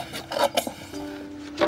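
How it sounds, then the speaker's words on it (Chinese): Handsaw cutting through wood in a few short rasping strokes close by, separated by a brief quieter pause with a faint steady tone. "苗苗，你试着不要垂直的锯，像我一样，锯子拿斜一点"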